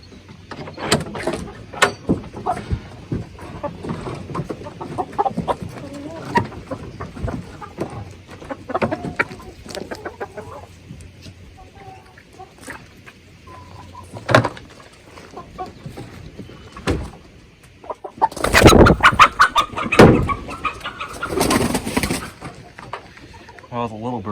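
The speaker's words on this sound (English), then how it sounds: "All the little birds are laying." Chickens on a homestead cluck in scattered bursts over about twenty seconds, with a louder, busier stretch of clucking and bird noise near the end. Quiet background speech runs under some of it.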